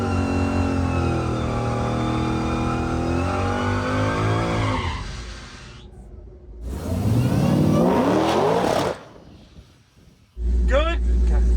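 Dodge Demon truck on nitrous roaring hard at full throttle, engine revving loud and close, easing off, then surging again with tire squeal and a sudden heavy blast at the end.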